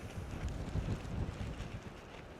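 Wind buffets the microphone throughout an outdoor ride at Gang Ranch, a steady low rumble that swells and eases without any talking over it.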